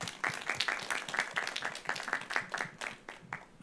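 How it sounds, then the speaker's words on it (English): An audience at an art school open house presentation applauds panelists, a fairly small crowd's distinct claps forming an uneven, lively patter. "give them a round of applause"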